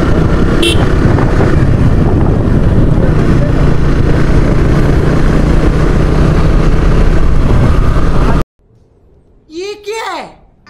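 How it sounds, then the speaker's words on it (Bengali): A motorbike engine roars loud and close in a steady drone for about eight seconds, then cuts out abruptly, leaving a quiet background and a brief voice. "এই তো আমাদের একটা বাইক চলে আসছে।"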